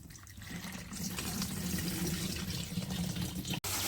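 Water gushes steadily from a running pump motor on a village farm, a dense continuous rush close by with no voices, ending in a brief dropout.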